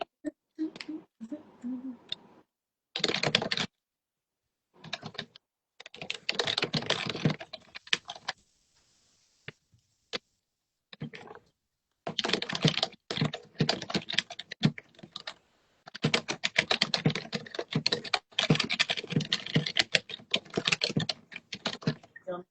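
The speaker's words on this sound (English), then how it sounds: "Those good sound keyboards." Steady bursts of computer keyboard typing play as background ambiance, fast clattering keystrokes in runs broken by brief pauses, fairly close and clear throughout.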